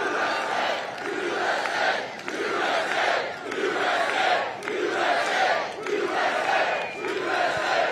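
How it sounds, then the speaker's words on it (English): A large outdoor political rally crowd near an airport hangar chants and cheers in a repeating rhythmic pattern, roughly one loud shout every second, sustained and fairly distant. "it's an honor to have this crowd. This is a hell of a crowd."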